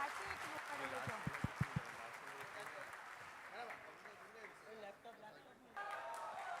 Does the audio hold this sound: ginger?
no